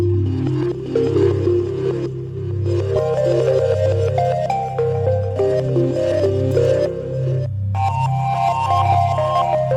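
Gamelan microtonal pluck improv plays forward and reversed together, layered melodic plucks over a pulsing low drone, steady and fairly loud throughout, with one brief gap near the end.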